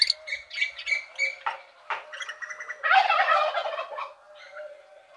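Small caged birds kept in an enclosure call in quick overlapping chirps and squawks, with a busier, louder burst of calling near the middle, heard close and without talk.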